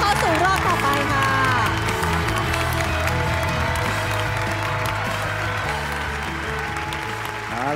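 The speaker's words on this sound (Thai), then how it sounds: "ขอเสียงปรบมือดังให้กับคุณแจ็คกี้นะคะ" Studio audience applauding for Jackie as she advances to the next round of The Voice Thailand 6 knockout stage, a steady wash of clapping mixed with cheering and music throughout.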